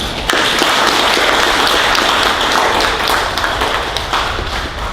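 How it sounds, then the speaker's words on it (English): Crowd applause at a community board meeting in a hall, a sudden burst of many hands clapping that holds steady and then tapers slightly. "Let's give all of them a round of applause."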